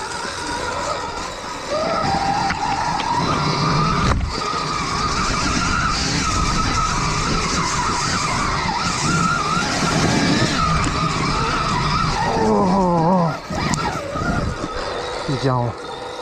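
A Stark Varg electric dirt bike rides off-road with a whining electric motor, tyres skidding and churning dirt for a sustained loud stretch, while people shout and talk over it.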